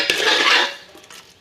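Close metallic scraping and clanking of a spoon in a pot as ginger-garlic masala paste is mixed into gobi palav, a brief stirring burst, a pause, then a sharp clink.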